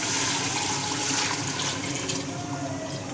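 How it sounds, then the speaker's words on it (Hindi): Broth (yakhni) is poured steadily into a pot of fried mutton paya, a continuous splashing, gurgling liquid sound, close and fairly loud, with no voices. "अब हम इसमें यखनी ऐड कर देंगे।"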